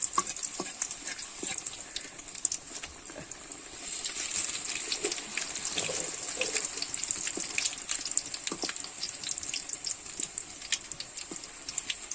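Potato and capsicum vegetables frying in oil for pakoda, a bright crackling sizzle with frequent small spatters and pops, steady and close throughout.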